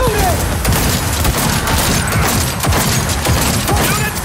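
Dense, continuous gunfire in a Cyberpunk 2077 firefight, with rapid overlapping shots and booms under busy battle noise, with some voices mixed in.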